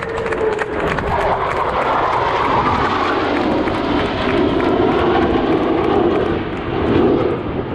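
U.S. Navy Blue Angels jets passing overhead during a practice show at NAS Pensacola, a loud sustained engine roar that swells and fades across the pass, with faint crowd noise beneath.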